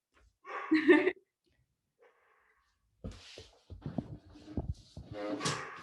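A pet dog makes a short bark or whimper indoors, then someone speaks nearby, calling to it.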